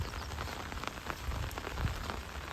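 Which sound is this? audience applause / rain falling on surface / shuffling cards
rain falling on surface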